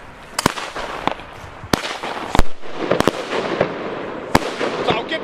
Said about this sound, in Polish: Więc Andrzej, najpierw odpalaj retorno